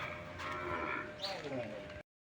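A single low, drawn-out moo from a nearby large dairy cow, followed by a brief quieter stretch before the sound cuts off abruptly.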